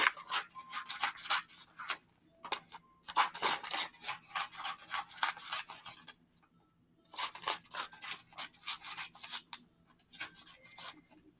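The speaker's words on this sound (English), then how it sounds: "Again, I just cut strips. See how I cut strips." Scissors snipping paper into strips for a dinosaur nest craft: bursts of rapid, crisp close-up cuts and rustles, pausing briefly between runs, with no talking.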